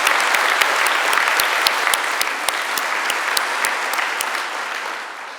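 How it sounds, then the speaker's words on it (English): Audience applause at a London university degree ceremony, a dense, steady burst of many hands clapping with a few sharper claps standing out, sustained throughout and tapering slightly at the end. "let's give that a clap"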